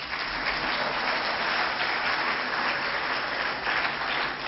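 An audience at a Jain sermon breaks into dense, continuous applause, many hands clapping loudly and evenly with no pause for the whole stretch.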